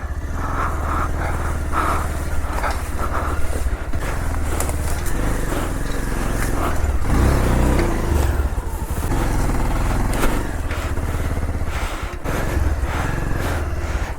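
A 220cc motorcycle climbing an offroad slope revs hard and continuously up close, rising and falling in pitch as it labors, with rattling and clatter throughout.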